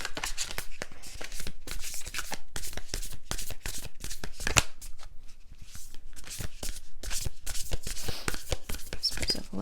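Whispers of Love oracle cards shuffled by hand, a dense run of rapid, crisp riffling flutters and slaps, close and loud, continuing steadily with brief pauses between bursts.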